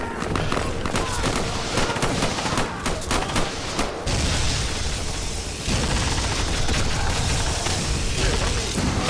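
Missiles launched in a Half-Life 1 animation film, a dense, continuous barrage of rapid bursts and booms that runs loud throughout, with a couple of brief dips.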